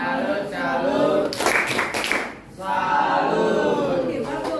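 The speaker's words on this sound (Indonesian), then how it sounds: "Beri tepuk salut." A class of ninth-grade students gives a salute clap, a short burst of rhythmic group clapping in the middle, between stretches of chanting voices that fill the room before and after.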